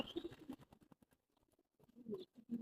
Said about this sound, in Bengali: এক এক করে সব নামতেছে কবুতর